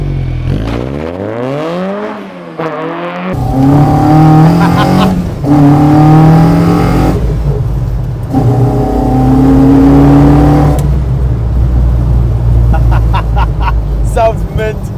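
A Mk1 Ford Escort with a Zetec engine and bubble arches revs hard in repeated rising and falling sweeps, loud and close, followed by a long sustained high-rev blip and sharp throttle stabs, with brief talk at the start.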